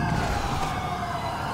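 Police sirens wailing in Grand Theft Auto V roleplay, a steady loud electronic siren tone sweeping continuously close by over faint vehicle noise, with no speech.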